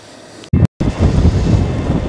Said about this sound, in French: il y a un sale vent en face